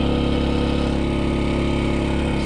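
A portable generator engine runs nearby, loud and steady with a constant pulsing drone and no talk.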